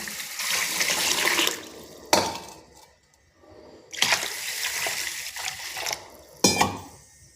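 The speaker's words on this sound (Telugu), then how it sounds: "ఇంకా ఇప్పుడు మంచినీళ్ళు పోసి నానబెడతాను బియ్యాన్ని" Drinking water poured onto washed rice in a kitchen to soak, several loud splashing pours with short pauses between them, close by and alone.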